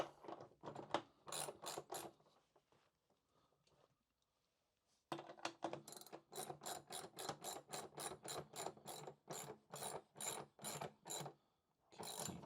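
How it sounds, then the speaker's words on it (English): A ratchet tightens a band clamp on pool and spa equipment plumbing, giving bursts of rapid close clicking, then a pause, then a long run of steady rhythmic clicks. "tighten the band clamp here"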